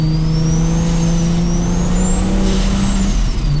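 A car with a welded differential accelerates hard through a corner at speed, its engine note rising and swelling steadily up close for a few seconds, with a whining tone climbing and dipping above the rumble and no talking.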